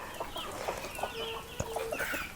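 Chickens cluck in a free-range poultry shed and compound, with scattered short clucks and calls over a low background murmur of the flock.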